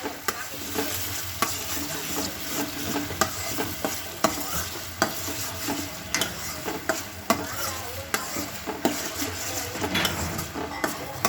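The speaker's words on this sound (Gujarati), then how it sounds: "હવે ટમેટા નાખશું, હલાવીશું" Tomatoes are stirred in a sizzling pan for pav bhaji, with a loud continuous fry and regular scraping, clinking strokes of a spoon against the pan, close by and without talking.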